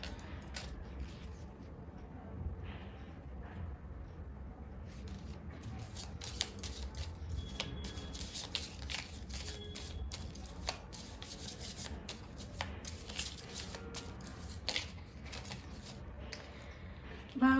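Oracle cards from a Lovers Oracle deck are shuffled and pulled, making soft papery rubbing, flicking and sliding sounds close by and fairly quiet, with a few brief snaps.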